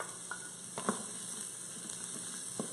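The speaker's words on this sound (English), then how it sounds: "I've got three shallots that I've diced up, and we're gonna go ahead and dump those in" Diced shallots, three of them, hit a hot pan for a holiday fingerling potato side dish, giving a faint steady sizzle with a few soft clicks and stirring taps, close but low in level, with no talk.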